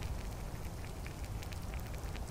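Soft, continuous patter of rain with scattered drops ticking on a surface, fairly quiet and steady.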